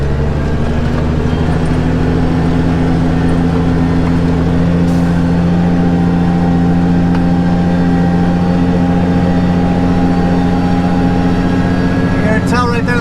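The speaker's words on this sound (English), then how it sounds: "3rd gear, just gonna Jake brake and ease on down." Heavy truck engine held in 3rd gear on a downhill with the Jake brake engaged, a steady, loud low drone with a strong rumbling pulse continuing evenly throughout, a brief rattle near the end.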